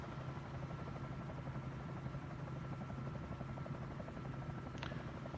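A helicopter in a flight video game drones steadily, a constant rotor and engine hum holding at even loudness throughout, with a brief higher whine near the end.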